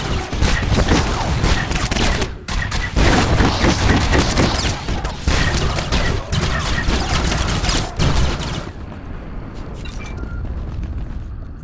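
Dense volleys of blaster fire crackle and boom nonstop during a firefight in Star Wars: The Old Republic, loud and layered with impacts, before fading to sparse shots near the end.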